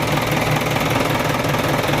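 A medium-size bus engine idles with a steady low rumble and slight knocking vibration, close and continuous, with no speech.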